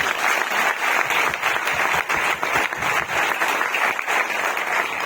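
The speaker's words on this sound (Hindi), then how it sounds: "मैं चाहूंगा सभी के लिए एक बार जोरदार ताली होगी।" Steady audience applause at a Vestige marketing gathering, a dense wash of many hands clapping continuously and fairly close for about five seconds, with no talk over it.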